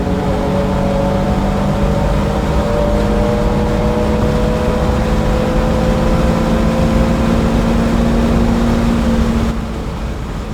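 A car with a VR30 twin-turbo engine accelerates hard down a race-track straight, its engine note rising steadily and loud inside the cabin for about ten seconds before easing slightly at the end.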